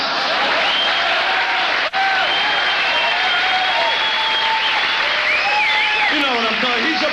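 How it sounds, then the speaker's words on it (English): Applause and crowd noise from a comedy show audience, a broad, steady roar of clapping and cheering with whistle-like tones and voices mixed in, close and loud throughout. "He's applauding for that."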